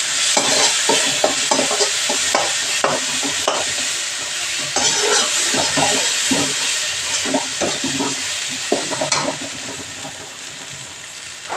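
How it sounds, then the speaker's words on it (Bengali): Kashmiri chilli powder fries in hot oil with a steady sizzle and hiss, broken by repeated scraping strokes of a spatula stirring the pan, close and continuous. "এগুলোকে একটু ভেজে নেব।"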